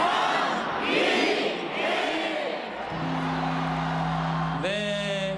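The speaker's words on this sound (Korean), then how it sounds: "제야애종 소리가 울리자 시민들이 환호합니다." Tens of thousands of people cheer and shout at the New Year's Eve bell-ringing ceremony at Bosingak in Jongno, Seoul, a roaring crowd in loud swelling waves, followed by steady tonal sounds and a voice at the end.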